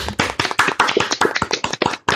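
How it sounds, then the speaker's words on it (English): A small group claps for a podcast guest, a close run of distinct, uneven hand claps sounding loud and alone for about two seconds. "Everybody, let's clap."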